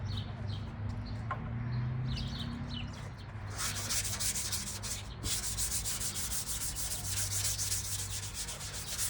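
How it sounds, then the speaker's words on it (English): Wet sanding with sandpaper on a new fender for a 1976 VW Beetle: a steady, close rasping rub that runs throughout, growing harsher and brighter in the second half, with faint birdsong behind and no talk. "keep our sandpaper wet."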